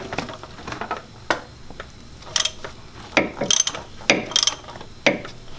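Quick bursts of ratchet clicking, close and crisp, as a 1-inch ratchet loosens a part during an oil change on an Infiniti G35 or 350Z, separated by short pauses.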